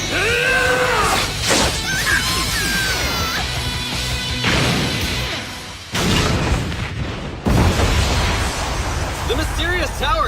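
A tower blowing up in a flurry of fireworks in an animated cartoon, with loud crashing booms, bursts and pops in quick succession, heavily mixed with excited voices and other animated effects.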